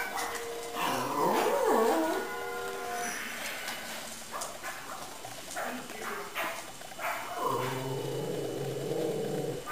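A puppy whimpers and yips in short, high, wavering cries that rise and fall over steady background noise, with a few fainter whines near the end.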